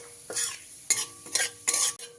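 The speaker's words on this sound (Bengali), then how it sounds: "ফোড়নটাকে হালকা ভাজা ভাজা করে নিতে হবে" Dry red chillies, bay leaves and whole cumin tempering in hot oil, with three bursts of crackling sizzle and stirring scrapes in a kitchen pan for a cabbage dish, no talk.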